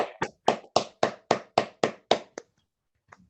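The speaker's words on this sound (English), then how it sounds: "if we'd like to all unmute and give a big round of applause" Online meeting participants clap together after unmuting, about nine sharp, evenly spaced claps in a quick run, then a couple of faint stray taps after a pause; no talking.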